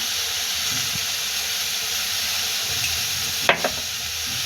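Grated carrot sautéing in a hot pan gives off a steady close hiss and sizzle, with a couple of brief scraping stirs near the end.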